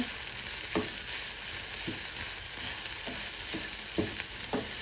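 Meat sizzles in a pan under a constant hiss, and a spoon stirs it in regular scraping strokes about once a second, close up with no talking.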